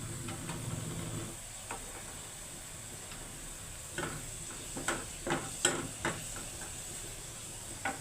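Spices tempering in hot oil for a Bengali dal baghar, a steady low sizzle and hiss with scattered sharper crackles and pops in the second half.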